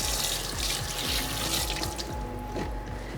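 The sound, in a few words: rinsing hands under a kitchen tap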